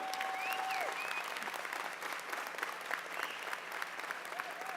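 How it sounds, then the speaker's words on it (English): A union conference audience gives a round of applause, steady dense clapping from a large crowd with scattered whoops and whistles, continuing throughout. "Give Chris Mabe a round of applause for what he does."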